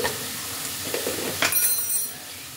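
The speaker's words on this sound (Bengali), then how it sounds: "এই মশলাগুলোকে মূলোর সাথে একটু ভালো করে মিশিয়ে নিতে হবে।" Spices being stirred into radish frying in a pan, a steady sizzle with scraping stirs and a louder hiss of steam near the end, close and alone.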